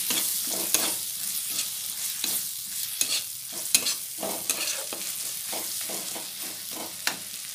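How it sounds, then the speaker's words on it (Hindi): Masala roasting in a pan for cabbage pakoda, with a spoon stirring and scraping through it in irregular strokes over a steady, close sizzle, and no talking. "तो मसाला अच्छे से मैं भूंज लिया"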